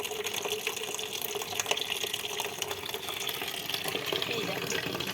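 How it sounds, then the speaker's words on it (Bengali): Water pours steadily from a tap on a rooftop in the morning, a continuous splashing hiss with someone talking over it. "কলে জল পড়ছে"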